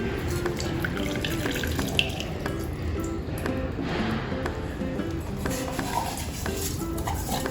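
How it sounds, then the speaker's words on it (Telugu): Water pours steadily into a container of ragi flour for dosa batter, a soft continuous splashing and trickle with faint clinks, close and quiet, no voices. "కొద్దిగా వాటర్ పోసుకుందాం"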